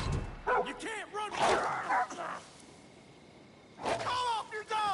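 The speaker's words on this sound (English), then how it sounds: "Call off your dog!" Dog barks and yips in the video game Far Cry New Dawn, several sharp bursts at the start and again near the end, with speech mixed in between.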